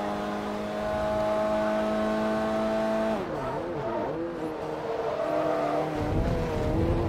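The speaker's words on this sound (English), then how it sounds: "Just revving the absolute arse off this car while drinking coffee." A car engine in Forza Motorsport 3 revs hard and holds at a high, steady pitch, then swoops up and down through wavering revs, loud and close with a constant roar throughout.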